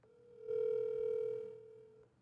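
A telephone call on a live stream: a single steady ringback-style tone sounds for about a second over faint background noise, then fades out.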